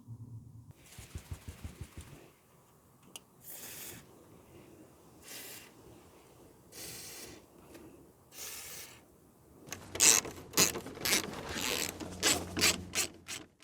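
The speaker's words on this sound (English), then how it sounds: "to remove those bolts, we need an 8mm socket, or a crowbar, but a socket's better" Socket wrench working bolts loose from the front bumper of a Vauxhall Corsa D, with close, quiet ratcheting clicks and rubbing scrapes in short bursts, then a louder run of rapid clicking near the end.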